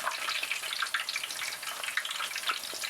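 Plantain chips frying in a pan of oil, a steady dense sizzle with crackling pops throughout, close and fairly loud with no voices.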